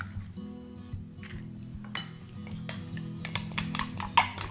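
Almond cookie dough being mixed in a bowl, with repeated clinks and scrapes of utensil against dish that grow busier and louder toward the end, close up with a steady low hum underneath and no talking.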